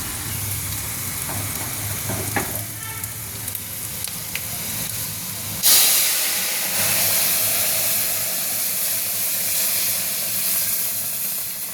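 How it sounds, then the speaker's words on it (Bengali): Dal poured into a hot pan of bay-leaf tempering and fried bitter gourd, setting off a sharp burst of loud hissing and sizzling that then settles into a continuous steamy sizzle, with no voices. "ডালটা ঢেলে দিলাম।"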